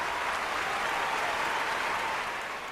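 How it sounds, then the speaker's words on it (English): Sustained burst of applause from a crowd, dense and steady, fading slightly at the end, with no talking over it. "Applause."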